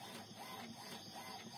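An HP Ink Tank Wireless 415 inkjet printer prints, a faint steady mechanical whirr with soft rhythmic shuttling.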